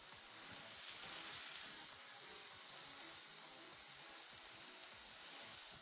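Mushrooms cook in a pan with salt, a soft, even, hissing sizzle that holds steady and fairly quiet, with a faint stir near the start.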